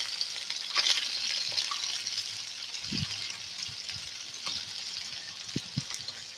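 Onion frying in a hot pan outdoors, a steady bright hiss running throughout with a few low thumps and pops, close and moderately loud.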